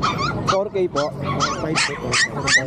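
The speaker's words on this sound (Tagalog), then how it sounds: "Ang daming aso ni bossing" Several dogs barking, yipping and whimpering in quick bursts at a pet market in Pasig, loud and close, with people talking over them.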